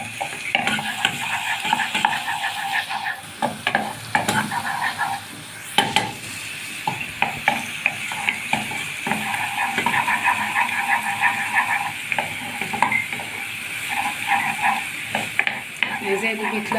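Two big spoonfuls of well-crushed garlic sizzle in hot oil for Egyptian koshari, with a spoon scraping and stirring against the pan in frequent clinks over the steady frying hiss.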